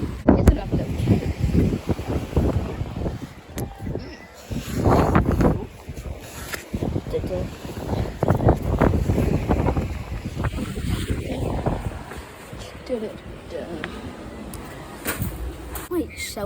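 Strong wind roars and gusts across a beach near sea caves, buffeting the microphone in uneven surges, with surf behind it and a person talking in between.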